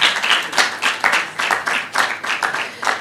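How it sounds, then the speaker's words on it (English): Applause at a communications mentorship conference and book launch comes as loud, close clapping that pulses in regular surges about twice a second, like a crowd clapping along in rhythm. "Please put your hands together. Let the applause keep going."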